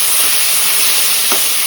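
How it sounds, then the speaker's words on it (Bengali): Potatoes fry slowly in oil, a loud, even sizzling hiss that holds steady throughout, with one short knock near the end. "আলু ভাজাটা আস্তে আস্তে হোক"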